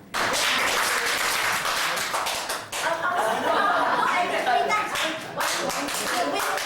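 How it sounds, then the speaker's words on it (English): A morning gathering claps together in long, loud bursts, broken by two short dips, with chuckles and voices mixed in among the hands. "you clap 3 times"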